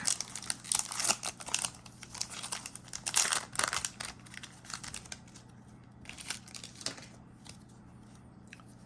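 A Tarzan trading card booster pack from an Overpower ERB and World Legends set is torn open and handled, giving bursts of close crinkling and rustling foil wrapper that fade to softer occasional crackles.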